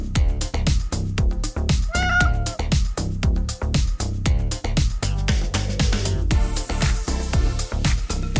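A pet cat lets out a brief meow, heard once over loud rhythmic music with a steady pounding beat that continues throughout.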